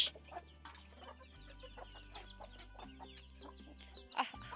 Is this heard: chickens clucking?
yes